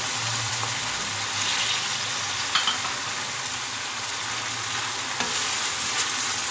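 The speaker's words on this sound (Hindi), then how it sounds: "अब टमाटर को अच्छे से भूनना है।" Tomatoes fry with garlic and ginger in a pan for spicy eggplant bharta, a continuous close sizzle with a few sharp stirring scrapes, heard alone.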